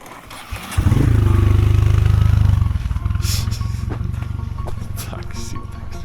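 A motor scooter taxi engine starts up nearby and runs with a loud, rough, pulsing idle that holds steady, with faint voices and street noise around it.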